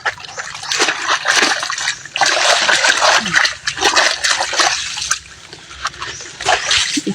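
Strong running water splashes and sloshes steadily while something is washed by hand, outdoors in a rural province setting, with loud, continuous spray and brief surges.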